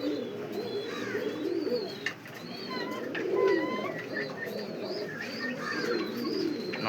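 Fancy pigeons coo repeatedly in a loft, with soft overlapping coos and occasional chirps from several birds, steady and fairly close throughout.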